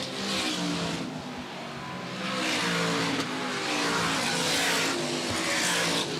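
Race cars roar around the oval at Airborne Speedway in Plattsburgh, New York, during a qualifier, with engines swelling and fading as the field passes. The noise is steady and loud throughout.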